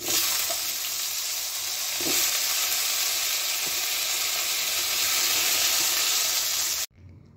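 Large diced potato fries in spice masala in a pan, making a dense, steady, close-up sizzle with a couple of soft stirring knocks, until it cuts off abruptly near the end.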